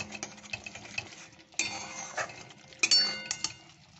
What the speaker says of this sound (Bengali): কড়াইতে তেল দিয়ে আদা পেঁয়াজ একটু রসুন জিরে ধনে লঙ্কা গুঁড়ো দিয়ে আমি কষছি কষে নিচ্ছি